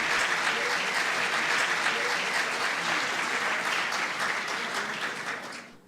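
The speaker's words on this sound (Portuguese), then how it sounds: "Auditório aplaude painelista." An audience at a rural congress panel session applauds a panelist with steady, dense clapping that holds at full strength for several seconds, then fades out at the end.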